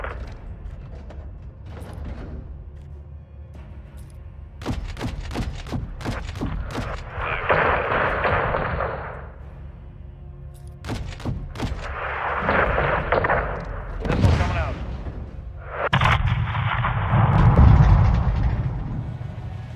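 Bursts of heavy gunfire rain down on a convoy in Call of Duty: Modern Warfare II, booming volleys arriving in several loud waves with short gaps between them and no talk over them.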